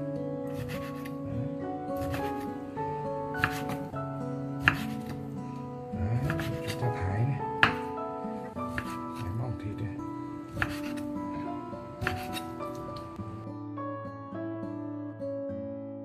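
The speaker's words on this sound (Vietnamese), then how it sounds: "Nhỏ thịt không cần nhuyễn quá đâu. Canh nên vừa vừa phải, băm vừa phải là được." Pork minced with a knife on a cutting board for a vegetable soup: repeated sharp chopping thuds in uneven bursts, close and clear, with a voice speaking over the strikes.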